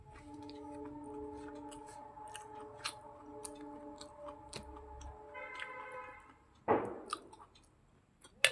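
Someone chewing fried eggplant and fried bitter gourd, with soft, quiet mouth sounds and small crunches over a steady background hum, then a louder burst of rustling near the end.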